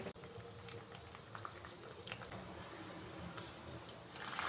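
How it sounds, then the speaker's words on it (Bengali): Egg curry gravy bubbling steadily in a wok, a continuous soft simmering hiss with small pops, close and even, with no voices. "তো দেখো কড়াইতে কেমন ফুটছে"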